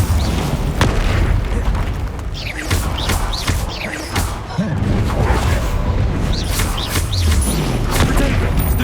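Hogwarts Legacy combat with Confringo blast spells, repeated loud booms and thuds firing in quick succession amid dense game effects and a continuous heavy rumble.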